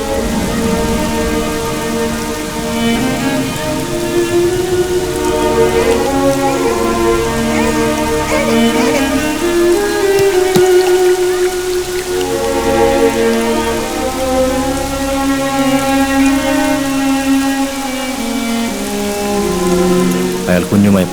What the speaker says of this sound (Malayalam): മഴയും ഇടിയും മിന്നലും നിറഞ്ഞൊരു വൈകുന്നേരം